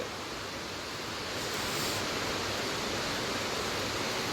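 Strong, steady rush of water at Abbey Falls, a waterfall in Coorg near Madikeri set among coffee plantations, filling the scene as a continuous broadband roar that swells slightly after the first moments, with no voices.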